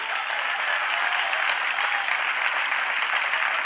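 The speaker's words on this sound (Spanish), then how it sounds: "Si le va a dar ese aplauso a Dios, déselo más fuerte" A church congregation claps for God in a thick, continuous burst of applause, loud and even for several seconds with no voices standing out.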